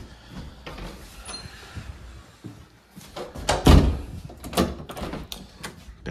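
A sliding door at a house in Somerville opens, with a low rumbling roll, a thud and a few knocks and clatters in the middle, heard close in a quiet room.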